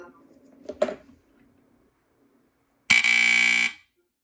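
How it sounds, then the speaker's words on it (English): A FireX FXC-1 line-cord smoke alarm's buzzer blares once, loud and harsh, for about a second after brief talk and handling noise. "Yeah, that thing is very loud. Just like our Linecord. Yeah, it's the same buzzer as the M-Heart."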